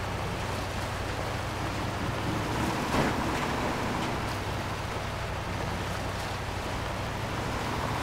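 A monster truck plows through water on a coastal map in a video game, a continuous loud wash of splashing and rushing water with an engine drone underneath and no break.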